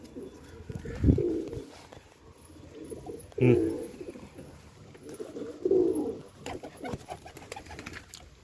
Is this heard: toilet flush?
no